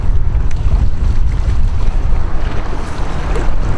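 Strong wind gusting past a bridge during boat fishing for striped bass in strong current, a loud steady roar of wind buffeting the microphone with water and motor rumble underneath, continuous and close, with no talking.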